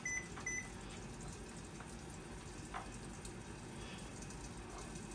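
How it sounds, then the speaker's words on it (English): A home oven's control panel gives a couple of short, bright beeps as the temperature is set for a low-and-slow tri-tip roast, heard close against a steady background hum. "We're gonna set our temperature here on our oven."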